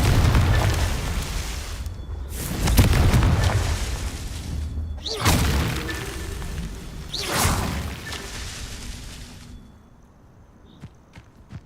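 Confringo fire spell explosions in Hogwarts Legacy, four heavy booming blasts in steady succession, each rolling out into a broad rumble before fading into a quieter tail.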